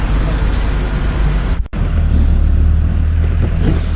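Vehicles idling and shifting on a road inside Sanjay Dubri Tiger Reserve as forest department staff move them back, a steady low engine rumble close by with a brief dropout, faint voices underneath.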